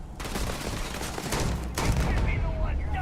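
A gun in the Starfield video game fires rapid, loud bursts in close succession, dense and sustained for a few seconds with a heavier surge near the end, over game ambience and occasional talk.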